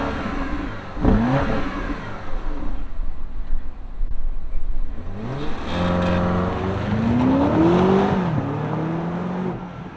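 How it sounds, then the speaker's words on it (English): A 2025 BMW X6 M60i twin-turbo V8 fires up with a sharp rev, settles, then is revved several more times in rising and falling sweeps, loud and close. "let's fire up this twin turbo V8 and hear what it sounds like."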